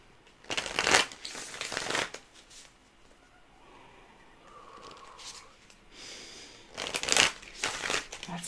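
Tarot cards being shuffled by hand in two loud bursts of riffling and crisp card slaps, separated by a quieter stretch of soft rustling.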